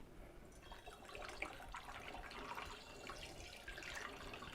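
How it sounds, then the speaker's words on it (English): Distilled purified water poured into a mead fermenter to top it off, a faint steady splashing and gurgling stream running for several seconds. "top it off with the rest of this distilled purified water"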